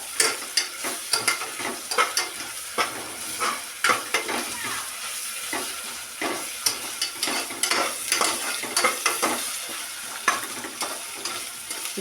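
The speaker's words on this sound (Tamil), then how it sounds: "அதையும் நல்லா நம்ம வதக்கலாம்." Ginger garlic paste sautéing in a pan with steady sizzling, broken by repeated close scraping and stirring strokes of a spatula, with no voices.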